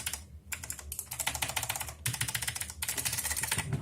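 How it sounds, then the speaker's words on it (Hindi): Keys clicking on a Cosmic Byte CB-GK-03 mechanical gaming keyboard: fast, steady, crisp typing close by, with a few brief pauses and no talk. "आप ये साउंड सुन के ही बता सकते हैं कि मैकेनिकल कीबोर्ड है।"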